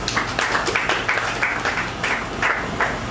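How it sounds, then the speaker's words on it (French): An audience at a panel discussion on women in politics gives a short round of applause, a dense, fairly loud patter of hand claps that rises and falls slightly. "Est-ce qu'on peut l'applaudir aussi?"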